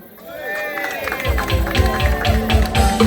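Audience applause at a municipal election conference, a dense crowd of clapping hands swelling after a brief voice and continuing loud and steady, with murmuring crowd noise mixed in.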